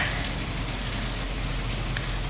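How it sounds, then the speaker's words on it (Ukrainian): Heavy rain pours steadily outdoors in a southern setting, a dense, continuous broadband hiss with scattered louder drips and patters, close and even in level, with no talking. "І ось опять у нас лиє дощ."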